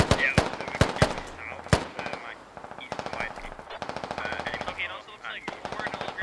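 Rapid machine-gun bursts and single gunshots ring out in the military shooter game Squad during an Operation Freedom Fjord firefight, loud and close, with sharp cracks early and a sustained rattling volley later, faint voices beneath.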